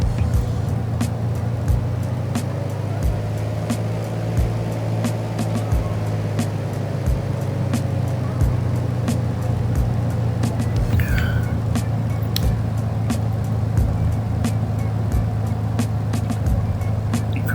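A Piper PA-28 light aircraft engine in Microsoft Flight Simulator 2024 drones steadily as the throttle is eased up, a constant low propeller hum with evenly spaced faint ticks, loud and close for the whole stretch.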